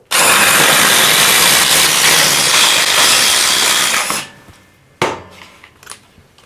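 A DeWalt DCF845 impact driver whirs loudly and continuously for about four seconds while making a hole, then stops, followed by one short burst and a few quieter clicks.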